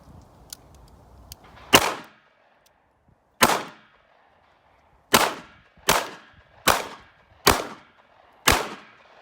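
A Kimber EVO SP pistol fires seven sharp, loud outdoor shots in daylight, the first two spaced apart and the rest in a quicker, uneven string, each followed by a short echoing tail.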